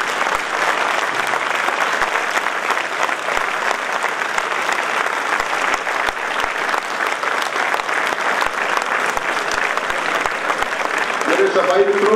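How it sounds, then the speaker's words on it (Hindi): A large audience at an award ceremony stands and applauds in a sustained, loud, dense wash of clapping that runs steadily throughout. "खड़े होकर के 10 मिनट तालियों के साथ उस व्यक्ति के लिए तालियां बजाए"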